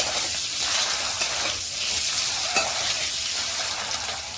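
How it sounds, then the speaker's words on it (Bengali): Eggs fry in hot oil with salt and turmeric, giving a continuous close sizzle with stirring and scraping throughout and one brief sharp clink partway through. "এবার আমি ডিমগুলোকে ভেজে নেব তেলের মধ্যে একটুখানি লবণ আর হলুদ দিয়ে দিচ্ছি"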